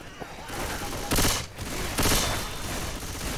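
Bursts of gunfire from the Left 4 Dead 2 video game, loud rapid volleys in two distinct clusters with a quieter stretch between, under faint background game noise.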